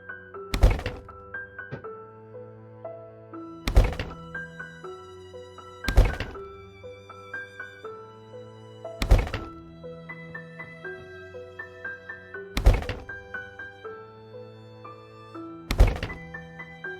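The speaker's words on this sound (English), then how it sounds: "And then so it doesn't look silly, let's destroy the handrails." Heavy thunks from destroying stairs and handrails in the Project Zomboid video game, six loud, evenly spaced impacts about three seconds apart, each followed by a short ringing tail, with no talk.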